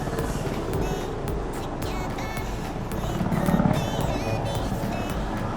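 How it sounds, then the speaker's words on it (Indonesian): Helicopter passing overhead along Jalan Raya Cicangkal, its rotor chop faint and steady within road traffic noise, growing slightly louder midway, with scattered chirps and clatter around. "Ini helikopter yang tadi."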